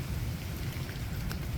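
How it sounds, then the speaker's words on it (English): Rain falls steadily outdoors after gale-force winds, a continuous low hiss and patter with a faint occasional drop standing out, fairly even in loudness throughout. "It's raining."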